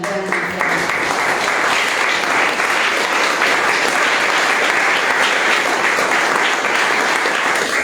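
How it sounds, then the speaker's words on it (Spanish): Sustained, dense audience applause for a poet at a literary event, loud and close, filling the whole stretch without a break. "Para ella le vamos a dar un gran aplauso."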